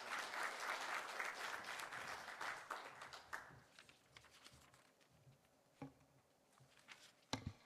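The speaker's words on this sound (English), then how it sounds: "Please join me in welcoming Dr. with a big hand." Audience applause welcoming a keynote speaker at a conference session, a dense steady clapping that fades after about three seconds into scattered claps and a few louder single claps near the end.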